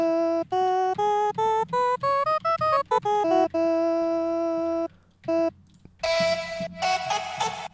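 A single sung vocal note, sampled without effects, is triggered repeatedly in short, evenly spaced bursts that quicken, then a longer held note and a brighter, noisier burst near the end.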